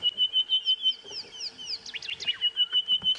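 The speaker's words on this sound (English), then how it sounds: "It's called an orange-breasted bush shrike." An orange-breasted bush shrike calls repeatedly with clear, whistled notes against a quiet outdoor background at sunrise on a safari drive, with other chirps mixed in.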